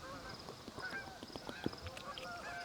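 A flock of migrating geese honks overhead near a beekeeping yard, with many overlapping calls in an irregular, continuous stream, moderately distant, and a few sharper nearby sounds mixed in.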